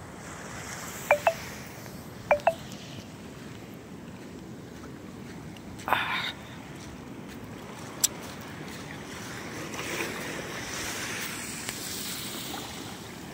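Steady ocean surf and wind wash over a white-sand beach at San Esteban, Ilocos Sur, under a passing storm, with a few faint clicks and knocks near the microphone.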